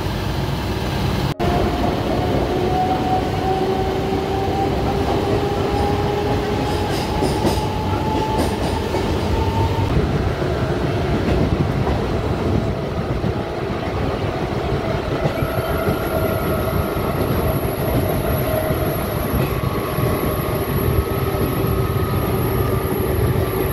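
A Mumbai suburban local train runs toward Diva station, a loud, continuous rumble and rattle of rail cars with faint wheel squeals and steady rolling noise throughout.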